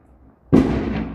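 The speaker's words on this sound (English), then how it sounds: "If you guys want to see fireworks, they're shooting them out." A firework explodes nearby during a 4th of July weekend at Old Fort Selden, New Mexico. A single sharp, loud boom breaks a quiet moment and then rumbles and crackles as it fades.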